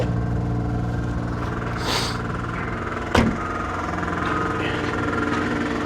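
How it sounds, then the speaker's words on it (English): A failing air conditioning compressor in an older grandmother's car at an auction yard runs steadily alongside the idling engine, with a sharp knock near the middle and a brief rattle earlier, close and fairly loud. "Sounds like that air conditioning is making some awful noises."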